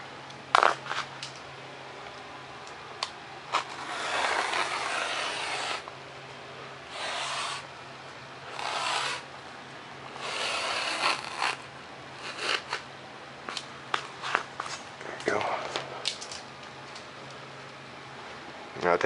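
A blade cuts paper model plans for a Fokker DR-1 along a ruler, close by, in scraping strokes and bursts with short pauses between them, over a steady low hum.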